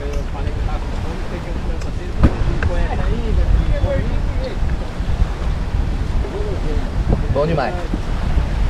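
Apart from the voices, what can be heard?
wind at a Paraná river campsite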